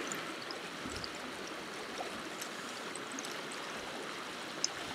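A fast-flowing trout stream in Sutherland rushes in a steady, even wash of moving water, faint and continuous, with no voices heard.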